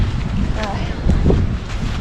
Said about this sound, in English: It's just been windy ever since last night or yesterday afternoon